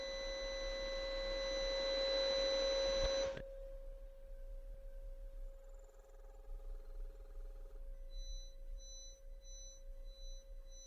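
An electric motor runs under drive auto-tuning, giving a steady tonal whine and hum that cuts off after about three seconds, leaving a quieter hum with faint intermittent beeps.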